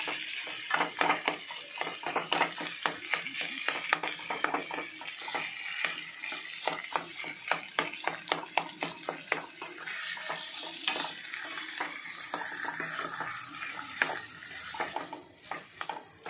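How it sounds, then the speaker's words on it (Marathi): Boiled potatoes being sautéed and lightly mashed in a pan for vada pav filling, with a steady run of spoon scrapes and soft stirring taps against the pan and a faint sizzle underneath, heard close and without talk. "हे परतताना जरासे थोडेसे मॅश होतील असे आपण मॅश करून घेऊया बटाटे."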